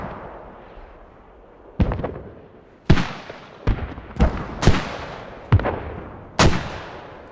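Mortar fire in a squad-based military shooter game, seven sharp booming impacts at irregular intervals of about a second, each with a long fading tail over a low ambient rumble.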